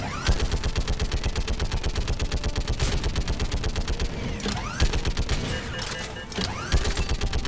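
Continuous rapid gunfire in the video game Mass Effect 3, loud and close, with steady rhythmic shots running almost unbroken through the whole stretch.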